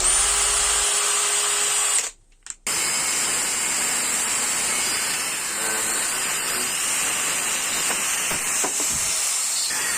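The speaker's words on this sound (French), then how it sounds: "je perce et je taraude un côté de l'axe" Power drill boring and tapping a metal shaft for a homemade shoulder lateral-raise machine, a loud steady whine with a brief pause near two seconds, then continuing hissing and grinding.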